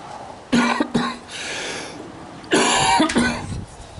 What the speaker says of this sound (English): I just started coughing and I couldn't stop